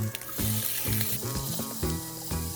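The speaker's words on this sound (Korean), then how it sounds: "김치도 가위로 대충대충 썰어 넣고 볶아줍니다." Kimchi and sliced sausage stir-fry in oil in a pan, giving a steady close sizzle with scraping and stirring clatter throughout.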